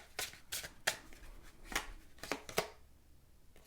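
A deck of tarot cards is shuffled close by: several crisp riffling bursts at uneven intervals, quiet overall, fading out near the end.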